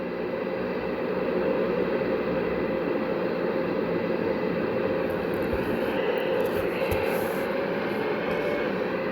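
Twin-turboprop airliner of Elegant Airways heard from inside the cabin on the takeoff roll, a loud steady engine roar and broadband rush filling the whole stretch without speech.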